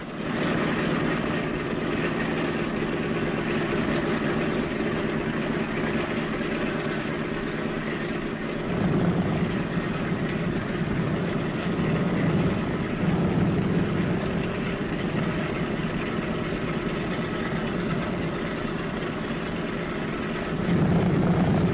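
The radial engines of a Boeing B-17 bomber run steadily, a loud, continuous droning rumble that surges slightly partway through.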